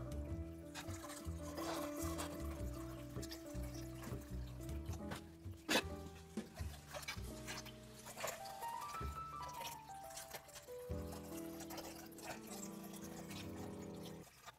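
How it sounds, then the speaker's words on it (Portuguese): A running filter on a small cube aquarium keeps water trickling and splashing continuously, with a steady watery wash and faint drips. Louder overlapping tonal sounds play over it for the whole stretch. "Colocar água nova, deixar o filtro funcionar"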